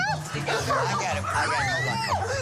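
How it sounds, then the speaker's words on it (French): Several dogs, a Doberman among them, pour into an entry airlock, yipping, whimpering and giving short barks. The dogs are close and overlap one another, with people talking over the noise throughout. "il y a 15 chiens qui arrivent d'un coup dans le sas"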